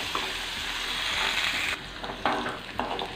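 Raw plantain and vegetables sautéing in a pan for kuzhambu: a steady sizzling hiss that dips and then brightens as the pieces are stirred, with a few scraping clatters near the end.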